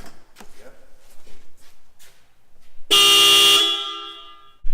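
A Hella Sharp Tone horn kit, newly installed on a car, blasts one loud, sustained honk lasting under a second after quiet voices and footsteps, then cuts off sharply.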